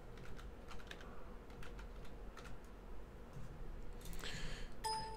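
Typing on a computer keyboard during a graphics settings session, scattered key clicks over a low steady hum, fairly close, with a brighter burst of activity near the end.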